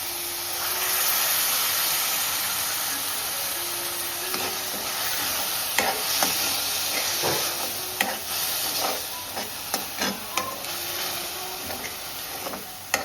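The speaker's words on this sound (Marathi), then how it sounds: "आता आपण टॅमॅटोची प्युरी टाकू" Tomato puree hits a hot pan and sizzles with a steady hiss, then stirring sets off scattered crackles and pops that grow sharper toward the end, all close and without talking.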